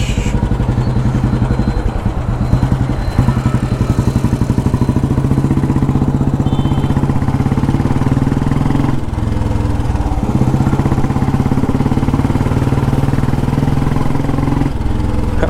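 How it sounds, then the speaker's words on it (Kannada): A Royal Enfield Bullet 350 motorcycle exhaust note, a loud, close, steady low thumping single-cylinder rhythm running the whole time with slight shifts in pace, no talking. "ಈ ಎಕ್ಸಾಸ್ಟ್ ನೋಟಿಗೆ ಎಷ್ಟೋ ಜನ ಈ ಗಾಡಿನ ಲೈಕ್ ಮಾಡ್ತಾರೆ"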